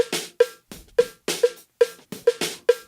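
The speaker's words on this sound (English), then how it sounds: "for my cowbell, which was on my left leg, playing here" Cowbell struck by the drummer's left foot, sitting inside a clean drum mix, with sharp metallic hits in a steady rhythm about every half second alongside kick and cymbal hits.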